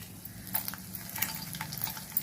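Mustard seeds, chana dal, urad dal and dried red chillies sizzle in hot oil for a tempering, a soft steady frying hiss broken by small crackles and stirring clinks.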